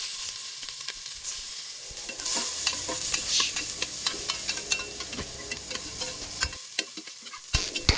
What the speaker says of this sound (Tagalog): Bago pa nga masunog ang bawang, isunod ko na rin ang sibuyas.